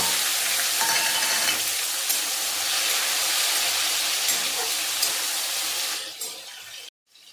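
Tomatoes added to a hot pan with hing, giving a loud, steady hissing sizzle that holds for about six seconds, then fades and cuts out.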